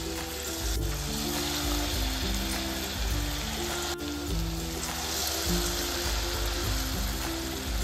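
Potatoes frying in hot oil over a medium-low flame to turn crispy, a steady, dense sizzle and crackle with occasional louder pops and a soft stirring sound, close and continuous.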